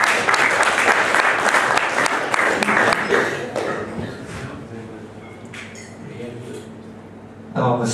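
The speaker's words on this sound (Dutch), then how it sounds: "Ik wil in ieder geval even een applaus hebben voor Pascal." Audience applause at an evening presentation, a lively burst of clapping that dies away after about four seconds, followed by quieter room noise, with voices talking over and after it.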